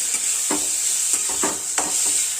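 Onion spice paste being stirred and sautéed in a pan, a steady high sizzle broken by four or five scraping strokes of the spoon, close and clear with no talking.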